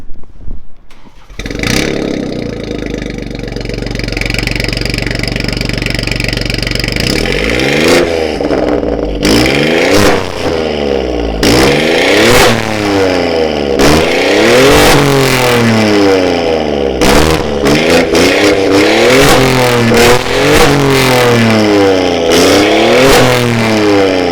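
A BMW F30 318 with a remote-controlled valve performance exhaust starts up, idles with a deep rumble and then revs hard in repeated loud, close blips that rise and fall throughout, with no talking.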